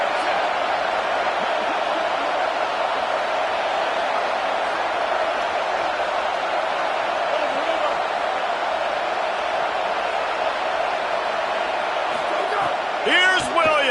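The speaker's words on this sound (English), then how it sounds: "This crowd going to try to make life miserable for these guys." Football stadium crowd producing a steady, dense roar that stays loud throughout, with a commentator talking over it.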